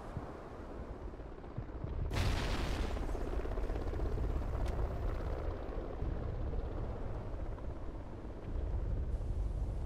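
A frag grenade goes off in the Warhawk online match: a sudden loud blast breaks into steady rumbling battle noise, which then keeps roaring without a break.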